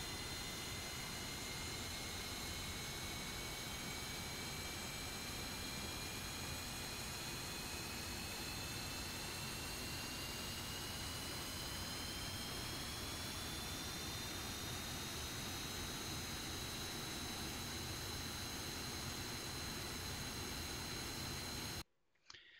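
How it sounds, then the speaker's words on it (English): An F-5E jet engine spools up in the DCS World flight simulator, a loud continuous whine that rises slowly in pitch over a steady roar, running alone for about twenty seconds before stopping abruptly. "Move the throttle to start idle and starter. Okay, now that's kicking over."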